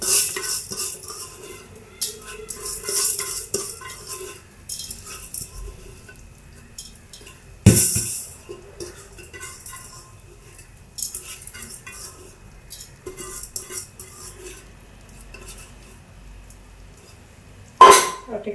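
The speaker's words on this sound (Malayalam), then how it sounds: "ആ അരി നമുക്ക് ഈ എണ്ണയിൽ തന്നെ വേറെ എണ്ണയൊന്നും ഒഴിക്കേണ്ട, അതിൽ തന്നെ നമുക്കൊന്ന് തട്ടിക്കൊടുക്കാം" Rice is stirred in oil in a pot for beef biryani: a utensil scrapes and clatters against the metal in uneven strokes over a faint sizzle, with a sharp clank near the end.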